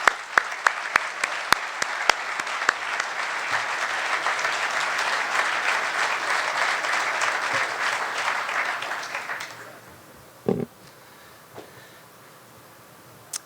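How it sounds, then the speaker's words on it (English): A convention audience applauds a fraternity chapter that traveled thousands of miles. Steady, full crowd clapping holds for about nine seconds, then fades out, leaving a few scattered claps. "Let's give them a round of applause."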